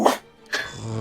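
A person's voice imitates a dog, giving one short growly bark burst followed by a second rougher, fading growl, close and fairly loud.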